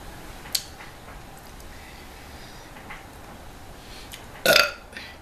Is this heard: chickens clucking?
no